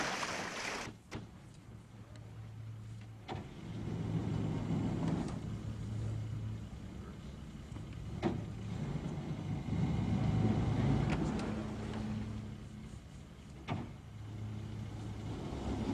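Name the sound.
boat engine with quick throttle bursts while maneuvering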